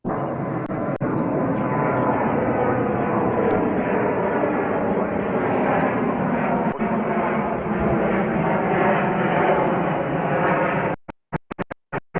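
A 13-year-old Embraer E175LR jet on a Delta Connection flight at New York's JFK airport roars loudly and steadily for about eleven seconds, then the sound cuts off abruptly into brief broken fragments.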